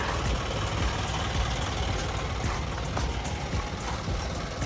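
A DA64B semi-wagon 4x2 automatic idles with a steady, even engine rumble and a broad hiss, continuous and moderately close, with no voices over it.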